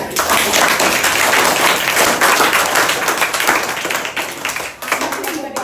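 Sustained group applause from students at a memorial event at a government higher primary school, a dense, steady clatter of many hands that fades slightly toward the end, with voices murmuring underneath.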